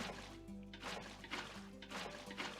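Minecraft water pours into waterlogged stairs of a hot tub, a continuous soft liquid splashing and trickling with repeated gentle surges, under a steady game background hum.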